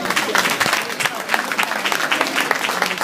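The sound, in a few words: audience clapping at show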